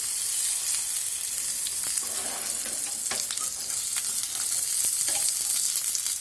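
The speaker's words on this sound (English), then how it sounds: "Let it fry for 5 minutes more." Mackerel fish masala frying on a flat tawa, a loud continuous crackling sizzle with scattered sharp pops, steady throughout with no voices.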